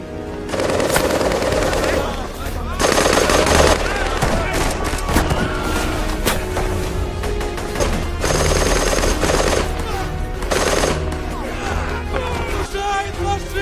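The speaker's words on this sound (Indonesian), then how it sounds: "Barkov berhasil melumpuhkan penembak otomatis Nazi dan menggunakan senjatanya buat menembaki tentara Nazi yang sudah hampir sampai desa" Sustained bursts of captured machine-gun fire in a war film battle as a soldier shoots at approaching Nazi troops, loud and continuous with overlapping gunfire, crashes and a voice amid the din.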